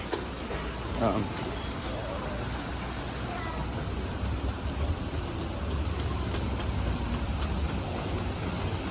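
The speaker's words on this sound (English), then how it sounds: "Hey Max, unfortunately, it's raining now" Rain falling outdoors near a shopping center roof under construction, a steady close hiss of drops on surfaces with a low background rumble, continuous throughout with people talking faintly in places.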